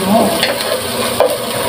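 Garlic and onion sautéing in a hot pan for pork and beans, a steady close sizzle and frying hiss with faint stirring scrapes throughout.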